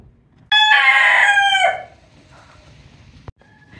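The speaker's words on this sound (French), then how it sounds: "Il y a un coq qui vient de chanter, un deuxième." A rooster crows once on a farm keeping angora goats, a loud, close cock-a-doodle-doo lasting over a second, followed by a quiet background and a faint distant call.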